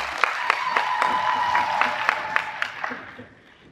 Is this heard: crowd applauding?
yes